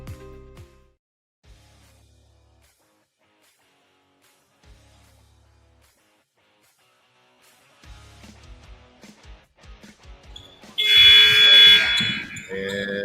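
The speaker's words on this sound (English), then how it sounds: "And the buzzer will sound" Buzzer blasts loudly near the end of a girls' high school basketball game between Sandpoint and Mountain Home, following quiet stretches and crowd and commentator voices.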